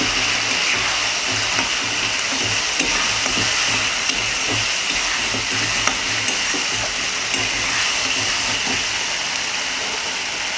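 Whole green chillies sizzle and fry in a pan while being stirred for a tangy, spicy Bengali dish, giving a loud, continuous crackling sizzle with faint scraping throughout.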